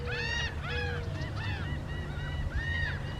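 Seabirds at the Jersey Shore calling in a series of loud honking, nasal cries, several overlapping calls over about three seconds above a low steady background rumble.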